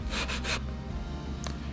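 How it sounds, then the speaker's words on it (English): Sandpaper on a cutting block rubbing along a walnut dresser edge, three quick close strokes followed by a single faint swipe. "sand it over a little bit so there's not a sharp edge"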